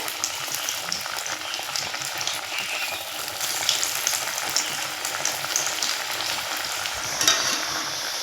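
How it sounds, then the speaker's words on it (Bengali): Snacks deep-fry in hot oil in a wok, a loud, dense, continuous bubbling sizzle heard close up with no one talking. "তেলে আমি এখন আমি এই স্ন্যাক্সগুলো এক এক করে দিয়ে ভেজে নেব"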